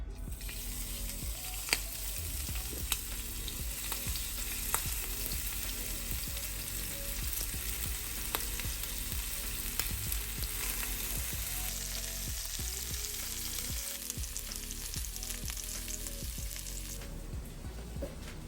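Prawn kebab skewers, garlic prawns, fry in olive oil on a hot grill pan, giving a steady, loud, continuous sizzle that runs the whole time with occasional pops and crackles, and no voices.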